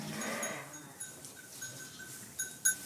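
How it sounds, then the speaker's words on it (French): Faint bleats come from a ewe that has just given birth on a French sheep farm, set against steady farmyard background noise with a few brief sharper sounds near the end. "Cette brebis vient de mettre bas, mais Jessica a repéré que quelque chose n'allait pas."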